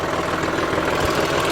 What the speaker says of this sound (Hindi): ये मैंने कर लिया ट्रैक्टर 1600 आरपीएम पे